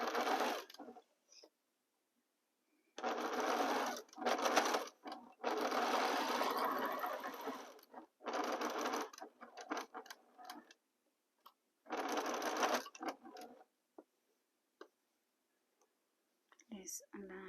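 A sewing machine stitches an Ohio Star quilt block with quarter-inch seams, running in several bursts of a few seconds each. Quiet pauses and small clicks fall between the bursts.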